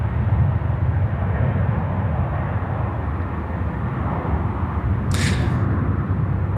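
A Finnair jet on final approach to runway 34 left at Sydney Airport gives a steady, low, broad rumble throughout, loud and continuous, with a brief hiss near the end.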